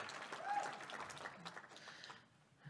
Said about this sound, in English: Give it up for Chronosphere.